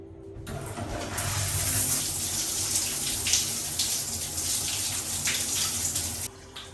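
Water from a hotel shower pours steadily at close range, a loud continuous hiss that starts abruptly and cuts off near the end, with no voices.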